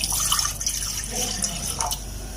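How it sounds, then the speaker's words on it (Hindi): Two cups of water are poured into a pan sitting on a stove, giving a splashing, trickling pour with small bright drips and burbles at a moderate, fairly steady level, with nobody speaking. "ये मैंने एक पैन चूल्हे पर रखा, तो उसमें मैंने 2 कप पानी डाल दिया।"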